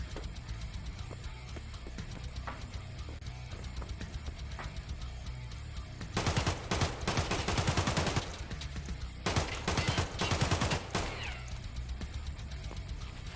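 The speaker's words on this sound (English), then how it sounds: "I know the gunshots are going to be loud" Gunfire in the online shooter Escape from Tarkov comes as two loud bursts of rapid automatic shots, the first lasting about two seconds and the second shorter, over quiet game ambience with no talk.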